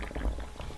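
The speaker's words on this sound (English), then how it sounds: "I'll drop the face cloth right into the water." A face cloth drops into a tub of hot water for shaving, a brief low splash and slosh of liquid, close and soft, with no talking.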